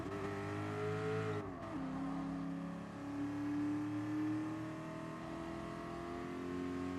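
A car engine in a racing video game screams at high revs, a steady loud whine with pitch shifts as it runs through the gears during a tiebreaker race, with no talking over it.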